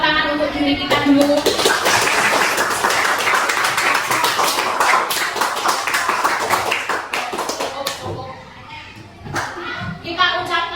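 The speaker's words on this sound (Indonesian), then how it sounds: "Kita beri tepuk tangan untuk diri kita dulu." Class of students clapping together in a classroom, a dense burst of claps that fades out toward the end, with children's voices mixed in.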